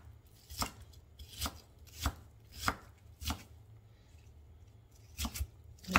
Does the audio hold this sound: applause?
no